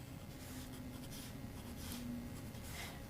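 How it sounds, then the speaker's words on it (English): Light pencil strokes sketching on paper, a soft continuous scratchy rubbing with faint short strokes over low background noise. "Notice I'm drawing very lightly."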